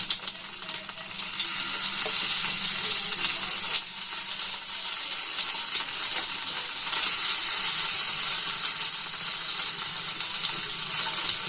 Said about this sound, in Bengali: দেখুন এইভাবে এক পিস করে এভাবে সুন্দর করে একটু ভেজে নিতে হবে।